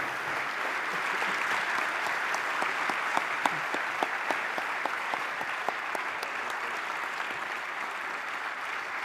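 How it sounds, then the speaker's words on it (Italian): Audience applause fills a 2022 Italian economic and development awards ceremony, a dense, steady wash of many hands clapping that holds evenly for about nine seconds with no voices on top. "gli dedichiamo un applauso che sicuramente arriverà fino a lui"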